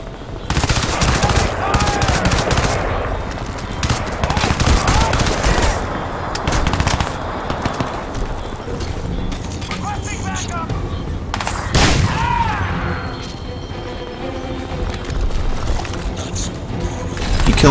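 Gunfire from Crysis 2 combat: rapid automatic bursts and heavy booming shots crackle nearly nonstop at high volume, with sharp individual blasts standing out from the dense barrage.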